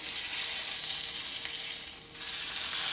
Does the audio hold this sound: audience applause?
no